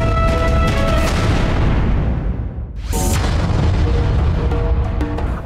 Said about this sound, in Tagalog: Ang nangyaring pagsabog is raw minor phreatomagmatic eruption ayon sa PHIVOLCS